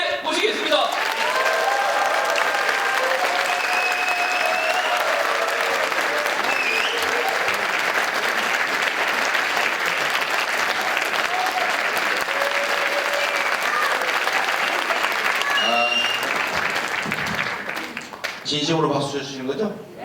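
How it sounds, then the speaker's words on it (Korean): Loud, sustained applause from a large audience at a Democratic Party lecture event as Seongnam mayor Lee Jae-myung enters, steady clapping filling about seventeen seconds before thinning out as a voice begins. "뜨거운 박수와 함께 모시겠습니다."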